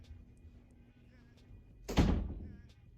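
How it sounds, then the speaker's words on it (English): A single loud door slam lands near the end, a heavy thunk with a short ring-out, following some quiet room noise and faint voices. "Shut my door."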